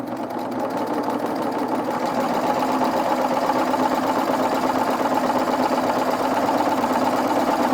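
A sewing machine stitches a dense rolled edge over wire on a scrap of fabric, running as a steady, close, continuous mechanical whir with a fast regular stitching rhythm throughout, with no talk.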